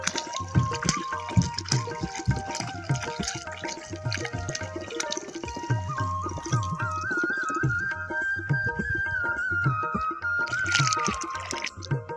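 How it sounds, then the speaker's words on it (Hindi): Water is poured onto a dried-up plant in a village garden, splashing and gurgling irregularly at close range over a tonal background hum. "ये पानी की वजह से ख़त्म हुआ है, तो अभी हम इसको पानी देंगे"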